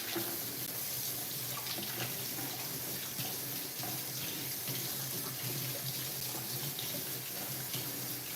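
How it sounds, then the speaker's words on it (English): A steady stream of running tap water splashes into a sink while a kitchen knife is rinsed, a constant, fairly quiet hiss with no talking. "I'm first gonna actually rinse off my knife."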